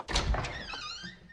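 A door opens indoors with a heavy thunk, then a short creaky slide that fades out.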